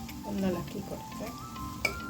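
Cauliflower being stirred in a cooking pan over low heat, soft scraping and light clinks over a faint sizzle, with a voice speaking quietly underneath.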